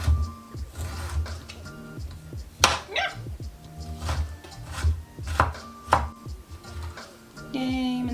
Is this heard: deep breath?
no